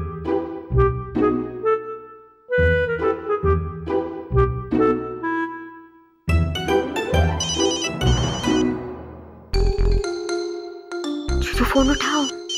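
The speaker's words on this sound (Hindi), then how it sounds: "फोन उठाओ" Telephone ringing in bursts of repeated electronic rings, close and loud, with short pauses between sets and some brighter tones toward the end.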